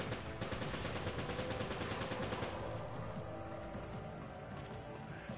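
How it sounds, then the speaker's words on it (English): Rapid gunfire in Resident Evil 5, a dense clattering run of shots that is loud at first and then thins out toward the end. "Someone else is shooting me?"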